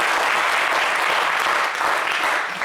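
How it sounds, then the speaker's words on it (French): Studio audience at a French-language entertainment show giving dense, sustained applause, a loud continuous wash of many hands clapping without break. "On va encore applaudir pour Carmen Sama."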